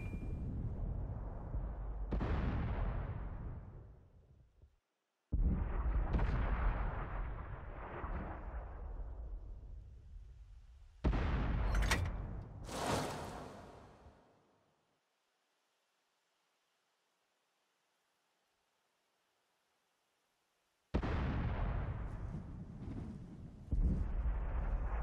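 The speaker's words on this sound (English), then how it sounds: "I was firing quite a few shots here before I was fully aimed" A US Sexton self-propelled gun in World of Tanks fires several heavy, booming shots. Each blast rolls off into a long rumbling decay, and there are gaps of silence between them.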